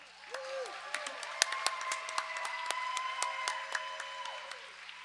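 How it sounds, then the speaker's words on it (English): Crowd applause and scattered cheers for volunteers at a roller derby exhibition bout, moderately loud and continuous, with distinct sharp claps and a few whooping voices in the stands. "give it up for all of our volunteers who make all this possible"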